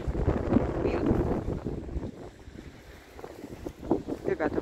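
Gusty wind buffets the microphone on a rocky beach in stormy weather, a steady roar with rushing swells that dip midway and surge again toward the end.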